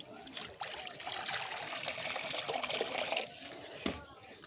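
Water is poured out for a crowd of pigeons, a steady close trickle and splash lasting a few seconds, ending in a brief knock, with a voice talking nearby.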